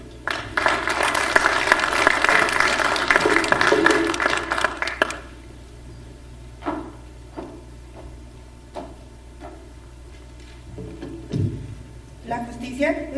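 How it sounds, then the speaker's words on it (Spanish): Audience applause at a law congress, a dense burst of clapping for about five seconds that stops abruptly, followed by scattered knocks and faint room sounds with a voice beginning to speak. "Por favor, un aplauso."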